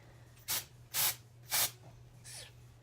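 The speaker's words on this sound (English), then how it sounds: "spray some of this dry shampoo and go like that" Three short hissing bursts of a tinted dry shampoo aerosol spray, close by, with a fainter fourth puff trailing off; a low steady hum runs underneath.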